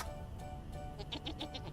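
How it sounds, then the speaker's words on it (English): Valais goat kid in the survival game Vintage Story bleating, a short series of about five quick, evenly spaced bleats toward the end after a quiet stretch with faint background ambience. "We got a Valais goat kid."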